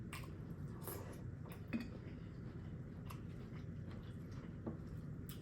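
Someone eating crispy fried chicken up close, with soft wet chewing and occasional crunchy bites over a low, steady background murmur, quiet overall.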